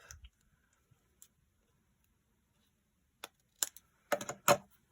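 Scissors snip a small protruding bit of paper off a card during Stampin' Up! papercraft: a few quick, crisp snips, close and fairly quiet, separated by brief silences, with no talking.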